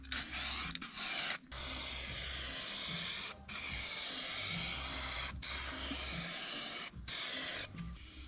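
Aerosol spray can laying filler primer on a car body panel, several long hissing bursts close by, separated by short pauses as the nozzle is released, no talk.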